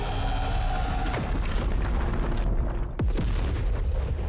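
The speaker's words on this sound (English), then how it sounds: "Little nuke type explosion." A large, nuke-like explosion from a redesigned Dragon Ball Super battle scene rumbles loudly beneath a dense layer of effects, followed by a sweeping, falling whoosh and a low booming swell.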